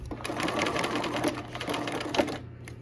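A sewing machine stitches fabric along a quarter-inch seam, with a close, steady rapid whirring of the needle running continuously throughout.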